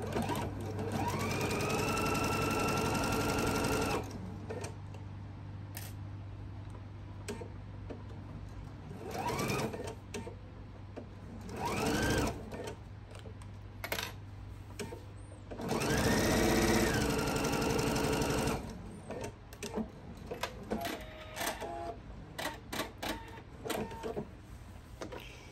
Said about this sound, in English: you're going to sew this all the way across